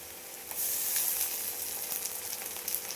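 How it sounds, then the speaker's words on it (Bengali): Ginger and cumin paste frying with onions in a pan, a close, steady hiss of sizzling that swells after a brief start, with light stirring and no talk. "এবার আদা জিরে বাটা দেব।"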